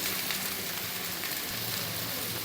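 Okra pieces fry in a pan for bhindi fry, giving a dense, steady, close sizzle with faint stirring scrapes and no voices.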